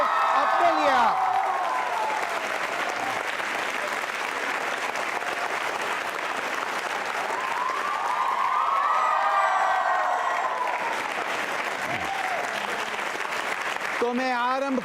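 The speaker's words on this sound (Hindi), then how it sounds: "तालियां जोरों से बजाइए अपने लिए आप" Schoolchildren at Bright Future school quiz show in Nirman Nagar applauding loudly, dense continuous clapping with scattered cheers and shouts, a voice speaking over it at the start and end.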